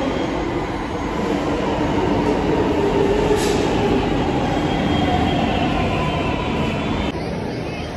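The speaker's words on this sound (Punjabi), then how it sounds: "ਮੈਟਰੋ ਆ ਗਈ" A Delhi Metro train rolls into the station with a loud, continuous rumble and rail roar lasting several seconds, with a high steady whine above it and a slight drop near the end.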